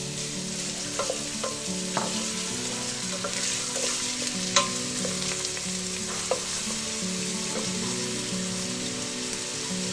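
Onion for Peruvian beef empanada filling fries in a pan with a steady, loud sizzle, broken by occasional sharp clicks and scrapes as a utensil stirs it.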